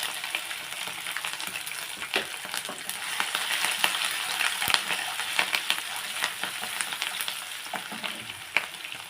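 Ginger paste and green chillies hit hot oil in a pan for stuffed brinjal masala curry, giving a dense, steady crackling sizzle close up with occasional sharp pops and stirring scrapes.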